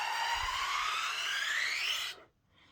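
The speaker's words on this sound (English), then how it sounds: "This one has a much more gradual, slow shift up the scale, and it sounds like this." Homemade pan flute made from straws, played as one slow, gradual rising glide up the scale; a bright, breathy whistle-like tone, loud and close, lasting about two seconds before stopping abruptly.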